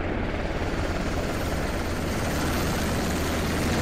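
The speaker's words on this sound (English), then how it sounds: "It looks like he probably got killed by a helicopter." Helicopter rotor and engine roar in the Squad military shooter game, a steady, loud, broadband chopping drone that fills the whole stretch without voices.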